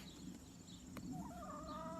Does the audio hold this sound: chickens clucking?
yes